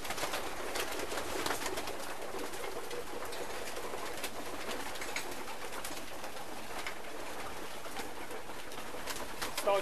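Racing pigeons at a competition flight loft coo and call in a dense, continuous chorus, with soft rustling throughout and no voices.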